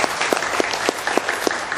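A live audience at a product testimonial event claps together in a brief burst. Several sharper, rhythmic claps stand out regularly above a dense background of applause.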